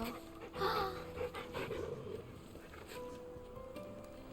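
A dog in Final Fantasy XVI pants softly in quick, rhythmic breaths, fairly faint, over quiet ambient game sounds.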